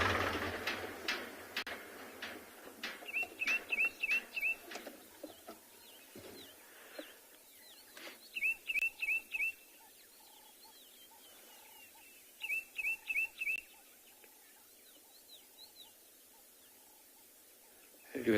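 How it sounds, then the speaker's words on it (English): An ashy tit calls outdoors on a South African safari morning, giving repeated bursts of sharp, high, rapid notes in three spaced clusters, moderately close, over faint ambient background and a low engine hum early on. "Beautiful call over here, sharp notes. That is of the ashy tit."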